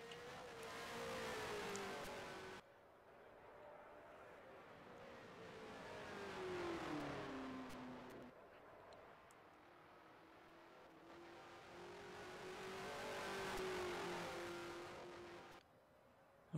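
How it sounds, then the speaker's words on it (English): A 1974 USAC race car engine at low revs coming off a corner, repeated engine notes rising and falling as the car accelerates, heard in several separate passes with no talking. "We can hear that quite low revs actually coming off the corner."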